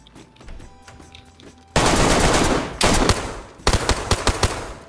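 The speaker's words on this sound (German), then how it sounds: "Was hat der für eine Waffe?" A KAM rifle fires in the video game DayZ, with loud, close bursts of rapid automatic gunfire arriving in three rattling volleys after a quiet start.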